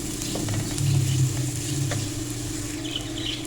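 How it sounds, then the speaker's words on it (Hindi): Finely chopped onion sautés in a pan, a soft steady sizzle with light crackling and occasional faint scraping close by, heard alone without voices. "इसको हमने सौते करना है कि इसका कलर भी चेंज हो जाए और इसका कच्चापन भी ख़त्म हो जाए।"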